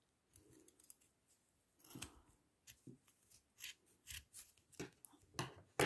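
Scissors snip through yarn wrapped for a pom-pom in a series of quiet, close, irregular cuts with brief pauses between them.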